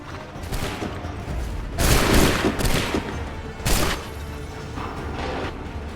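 Ragged musket volleys roar out in Assassin's Creed 3 Remastered on Xbox One, with two heavier bursts of massed gunfire standing out over a continuous battlefield din.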